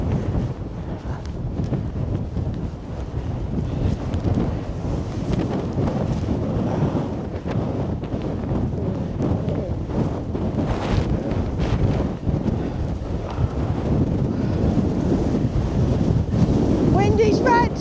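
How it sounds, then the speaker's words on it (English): Strong wind buffets the microphone on the wild Atlantic coast, a steady loud roar with gusts throughout and possible surf beneath, while a person talks over it. "A tad breezy, yeah. Not gonna lie, a tad breezy."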